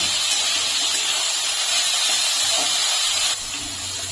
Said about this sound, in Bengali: এখন সবজিটা তুমি হালকা একটু ভেজে নেব